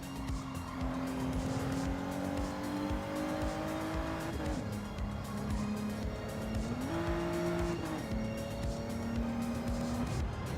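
Race car engine in Gran Turismo 7 revving out in second gear, loud and constant, pitch climbing steadily, dropping at a shift, then climbing again, with tire noise underneath.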